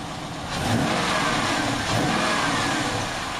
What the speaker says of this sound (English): Rev it up with the cutouts off